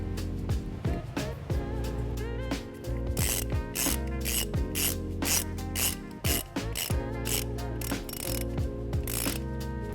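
A nut is spun down onto a positive battery stud to secure a ring terminal while wiring a trailer harness on a 2017 Nissan Sentra, giving close, loud rapid ratcheting clicks in repeated bursts with short pauses.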